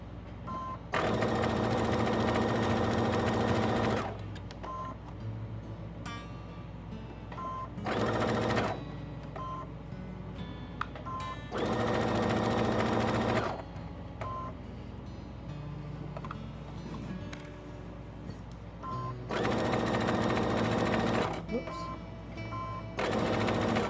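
A sewing machine stitches a pillowcase dress seam in loud, steady bursts of several seconds each, separated by quieter pauses where someone talks.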